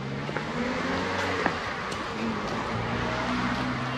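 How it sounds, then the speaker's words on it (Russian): Cars pass along a street in Austria, a steady broadband road hum with engine drone building and fading as vehicles go by, fairly close and continuous without talk. "Машины."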